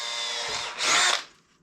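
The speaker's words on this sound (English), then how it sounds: "So let's go ahead and start drilling our holes." A power drill whines steadily, then bites in with a brief louder, rougher burst as it cuts through HDPE plastic for a kayak seat before spinning down.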